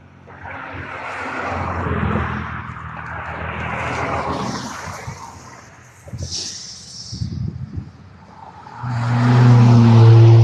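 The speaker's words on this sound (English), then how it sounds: "These cars are coming. They're gonna hit me." Cars passing on a road near someone sitting in the middle of it, several loud engine swells rising and fading one after another, close by, with a heavy low rumble building at the end.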